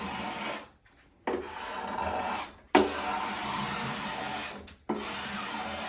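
Steel scraper rasping along wooden acoustic guitar sides in a workshop, in three long continuous strokes separated by brief pauses, close and fairly loud with no talking.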